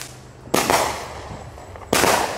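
Two sharp, loud explosions of illegal Fourth of July fireworks burst outdoors, each with a booming crack followed by a fading rumble, about 1.4 seconds apart.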